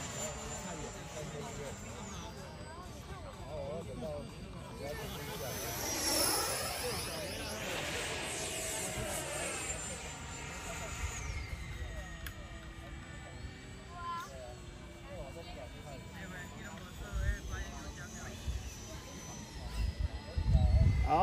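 An FMS 80mm F-86 model jet on its test flight, a rising and falling turbine whine sweeping past overhead, with people chatting throughout and wind buffeting near the end.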